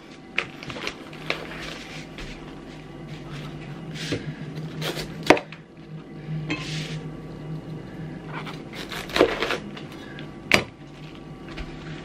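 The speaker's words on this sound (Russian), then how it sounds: "И начинаю резать капусту." A knife chops cabbage at a kitchen counter in irregular sharp strokes, with several louder thuds and clicks against a steady low background hum.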